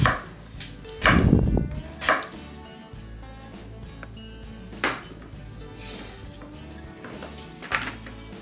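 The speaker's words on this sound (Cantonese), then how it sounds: "跟住呢，就將佢切小件" Knife chopping peeled daikon radish into small pieces on a cutting board, a few sharp thuds spaced apart, close and fairly loud, with light clinks of kitchenware between.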